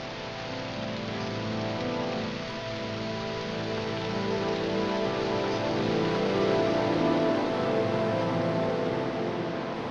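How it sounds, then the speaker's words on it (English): Rain drenching lower-elevation foothills near a ranch pond, a continuous even hiss of falling drops on the ground and vegetation, steady and fairly loud with no voices or other sounds. "In the lower elevation, rain drenches the foothills, providing precious water which all life depends on."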